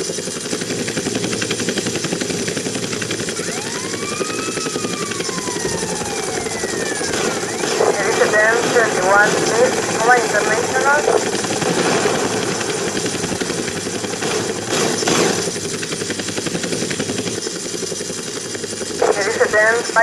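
An Apache attack helicopter in GTA Vice City thrums as a steady, loud rotor drone for the whole stretch. Brief warbling game effects and a voice rise over it now and then.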